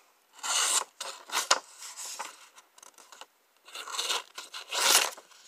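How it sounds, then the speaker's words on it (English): A Buck 251 Langford knife slicing through copier paper, heard as several close, crisp rasping cuts in irregular bursts with short pauses between strokes and no talking. "Let's go ahead though and check the sharpness of it using our copier paper"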